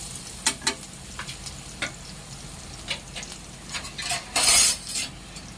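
Garlic paste is stirred into frying masala for a spicy Kathiawadi peanut bhajiya curry. A soft background sizzle is punctuated by several sharp spoon-on-pan clinks and scrapes, ending in a louder burst of stirring.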